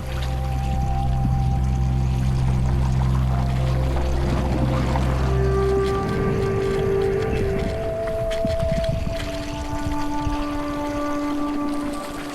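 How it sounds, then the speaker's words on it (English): Acidic water at an Ethiopian volcano bubbles and gurgles continuously, a loud churning wash with sputtering pops and a low rumble, no voices present. "There we can hear the water, but we can't see it."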